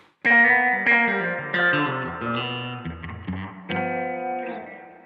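Sustained electric guitar chords through a BOSS RE-20 Space Echo ring out with a washy, echoing reverb tail, each strum blooming and fading into the next.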